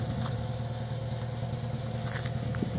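Steady low exhaust rumble from a 1949 Packard Custom Eight running at idle through a new old stock muffler and original pipe sections, even and continuous at moderate level with no talk.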